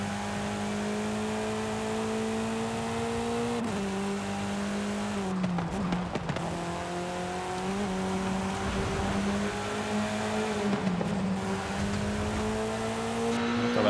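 Polestar car driven in Forza Horizon 5, a steady engine drone with gear-shift dips and rising revs, fairly loud and continuous with brief tire noise.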